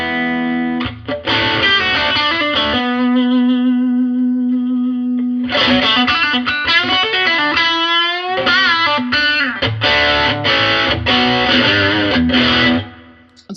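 An electric guitar through a Keeley Blues Disorder overdrive pedal gives a Marshall-style driven tone, loud chords and a sustained bent note with some reverb, ringing without talk.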